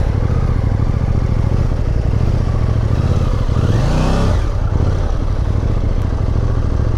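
A KTM 890 Duke motorcycle (2021) engine drones steadily at cruising speed in traffic, and another vehicle whooshes past close by around the middle.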